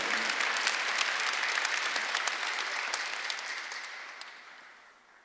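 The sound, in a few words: congregation applause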